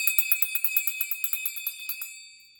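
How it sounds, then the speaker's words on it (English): A handbell kept as a Christmas reindeer bell is shaken in a quick, even run of about sixteen bright, high metallic strikes whose rings overlap, then it stops and the tone fades away. "when I rang the bell, it sounded just like the ones when one of the reindeer walked around"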